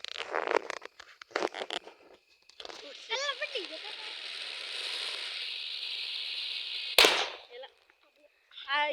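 Firecrackers go off at a family Dev Diwali celebration: sharp crackling pops and a long fizzing sizzle, then a loud burst near the end. Voices are heard between the bangs.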